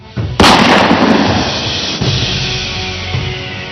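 Two loud, sharp gunshots ring out about a second and a half apart during an armed robbery at a jewellery shop in Amrut Nagar, Ghatkopar, Mumbai, each followed by a long, echoing rumble.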